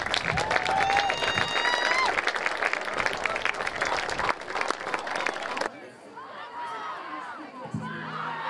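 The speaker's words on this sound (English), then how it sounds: "Let's get a big round of applause for all of our sixth graders." Crowd applause and cheering at a youth football home game for the sixth graders, scattered clapping and excited voices up close with whistles and crowd chatter, easing to a quieter murmur partway through.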